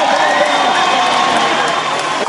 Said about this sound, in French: Sous les vivas de la foule